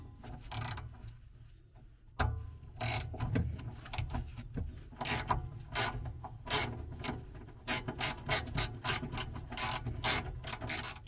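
Bolts being removed from the lid of a Kronings Heat 1500+ heater in a Hero Camper Ranger: repeated scraping, rubbing and ratcheting clicks from hand tools on the metal housing, close and fairly loud.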